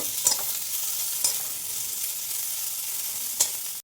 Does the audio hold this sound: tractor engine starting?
no